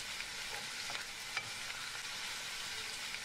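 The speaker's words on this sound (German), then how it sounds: "Jetzt kann man es braten." Grated potatoes fry in plenty of vegetable oil, a continuous, soft crackling sizzle with small pops and light stirring scrapes, close by and with no voices.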